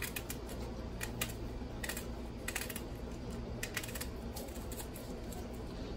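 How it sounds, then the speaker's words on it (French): A knife chops an onion on a cutting board in a home kitchen, with a quick run of close, irregular tapping strokes over a steady low background hum and no talk. "Alors à l'intérieur je vais découper l'oignon."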